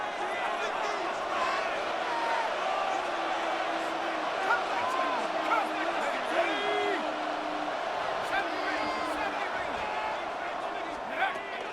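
A stadium crowd at MetLife Stadium in a Madden NFL game roars as a steady, dense wash of noise, with whoops and swells rising through it while a commentator talks over it.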